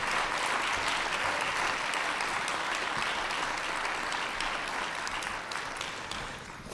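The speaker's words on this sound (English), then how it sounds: "Please, another big round of applause." An audience applauds steadily at a city key ceremony in Ottawa, a dense, continuous wash of clapping that holds strong throughout and tapers slightly at the very end, with no talk over it.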